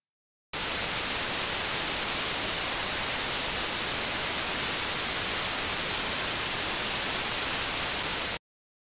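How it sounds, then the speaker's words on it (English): Plain white noise: a flat, constant hiss of equal loudness starts abruptly, holds steady for about eight seconds and then cuts off cleanly. "White noise is a random collection of frequencies all at approximately the same volume."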